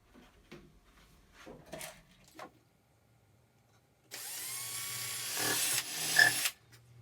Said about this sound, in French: Donc maintenant je vais percer les trous des chevilles